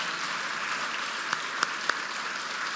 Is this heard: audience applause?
yes